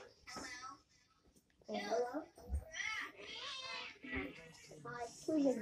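Pet cats meowing repeatedly and fairly loudly, close by, over a person talking nearby.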